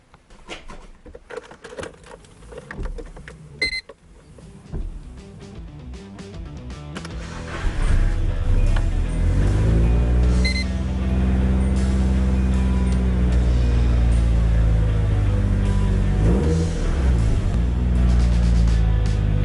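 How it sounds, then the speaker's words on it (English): A Nissan 240SX engine turns over and starts after quiet handling sounds, then settles into a loud, steady idle close by with slight revving swells. "let's turn the car on now and see if all that work and the RPM gauges and everything works"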